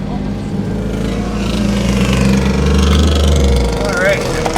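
Car engines rumble loudly on a drive through the Ozark Mountains, a deep, steady drone that swells slightly as it goes, with faint voices under it.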